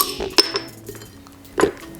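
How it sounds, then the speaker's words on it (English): Ice cubes dropped into a big pint glass make sharp clinks and clatters, a few distinct hits with quieter rattling between, close and alone. "I like to take like a big pint glass and fill it with ice"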